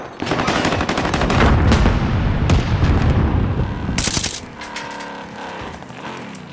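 A frag grenade detonates in the Call of Duty Warzone video game, a loud burst amid rapid gunfire crackle, followed by a bright ringing tone and fading rumble.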